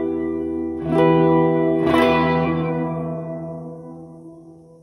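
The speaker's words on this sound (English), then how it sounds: "Shimmery flanged reverb." A sustained chord swells twice and rings out through a shimmering, flanged reverb, its phasing tail sweeping and slowly fading over several seconds.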